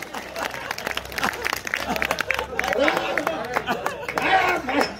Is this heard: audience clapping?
yes